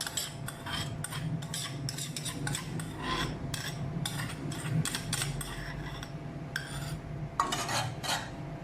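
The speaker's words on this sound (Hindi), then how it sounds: "अभी इसमें मैं घी डालूँगी।" Metal clinks and scrapes from a cooking pan and utensils as ghee is added, steady and close, with a faint sizzle underneath and no talking.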